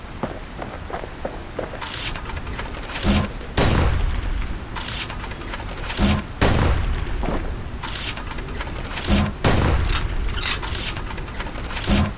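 Repeated heavy gunshots from a weapon in Bastion, booming blasts spaced a second or two apart over a dense continuous backdrop of noise.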